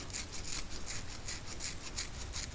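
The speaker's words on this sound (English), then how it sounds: "now let's sand and clean the discharge line" Continuous scratchy rasping of abrasive sanding and cleaning a copper refrigerator discharge line running from the condenser to the filter dryer, a steady rhythmic back-and-forth scrubbing close up with no talk.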